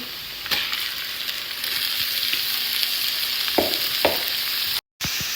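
Onions hiss and sizzle in a pan just after garlic, a steady close frying crackle broken by a few sharp stirring clicks and one brief dropout, with no voices.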